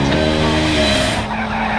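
A car skids hard after its handbrake is pulled, tires squealing loudly with a harsh engine roar that cuts off abruptly near the end.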